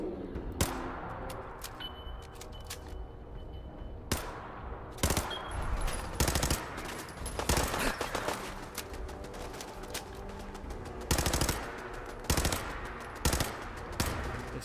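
Automatic gunfire from a heavy-recoil gun in Fallout 4, with rapid bursts and sharp single shots scattered across the span over a constant background rumble of battle.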